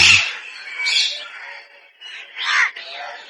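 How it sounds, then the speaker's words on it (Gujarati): Harsh, raspy parrot squawks ring out a few times at a zoo, fairly close, with a short gap between calls. "બધા પોપટ જ છે"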